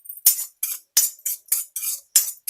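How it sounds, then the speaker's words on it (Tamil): Garlic roasting in a pan is stirred with a metal utensil, producing about eight sharp, close scraping clinks in an uneven rhythm, with silence between strokes. "பூண்டை வறுத்துக்கலாம்."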